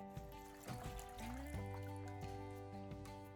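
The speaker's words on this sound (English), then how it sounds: "Prepare a clean basin, add enough water to cover the apples" Water trickling and pouring into a clean basin to cover apples for washing, a soft steady splashing under a faint tonal background hum.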